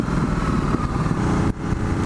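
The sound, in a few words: Ducati Multistrada 1260S motorcycle engine while riding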